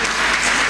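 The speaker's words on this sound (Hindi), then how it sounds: "एक बार जोर से तालियां हो जाए" The audience at a talk show on spirituality gives a brief, dense burst of applause, a loud wash of many hands clapping.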